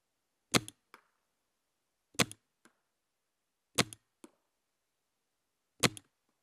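An M17 paintball marker with a Zeta magwell prototype fires four sharp, close shots at roughly one-and-a-half-second intervals, each crack followed by a faint mechanical click.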